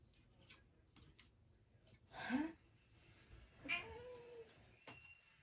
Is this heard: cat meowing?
yes